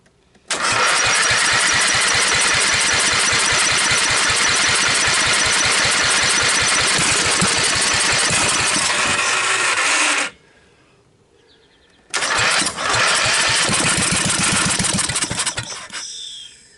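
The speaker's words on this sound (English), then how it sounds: "I think I consider it a running engine." A mouse-damaged Briggs 12.5 HP L-head petrol engine, choke on, catches and runs loudly with a rapid, rough chatter for about ten seconds, cuts out briefly, then fires up and idles again.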